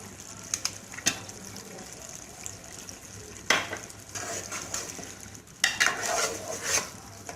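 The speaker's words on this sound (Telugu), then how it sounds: "తరువాత గోంగూర పేస్ట్ కూడా వేసుకుని ఉడికించాలి" Gongura chicken curry cooks in a pan with gongura paste stirred in, giving a soft steady sizzle broken by scattered scrapes and clinks of a utensil against the pan, with louder stirring bursts near the middle and end.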